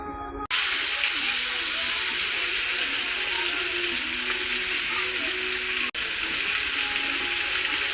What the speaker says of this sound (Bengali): এখান থেকে আমরা পেঁয়াজ রসুন দিয়ে দেবো